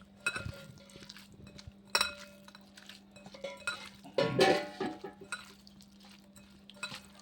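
Bottle gourd leaf vorta is mashed by hand with onion and mustard oil, giving faint, intermittent soft squishing and occasional clinks against the dish, over a low steady hum.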